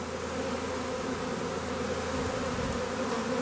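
A honey bee swarm hums and buzzes in front of the hive, a dense continuous drone at moderate distance with no talk over it.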